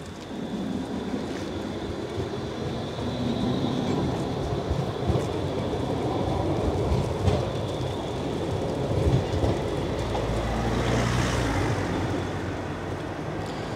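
A tram rolls past on city tracks in Szczecin near a waterside boulevard, a loud sustained rumble with rail clatter and a brief wheel squeal toward the end, no voices.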